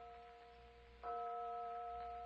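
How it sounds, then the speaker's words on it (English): A phantom church bell rings as a radio drama sound effect, entering abruptly about a second in with a sustained, steady tone that hangs alone over faint background hiss. "Just the phantom church bell again."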